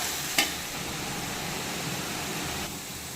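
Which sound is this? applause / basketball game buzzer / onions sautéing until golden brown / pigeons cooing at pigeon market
onions sautéing until golden brown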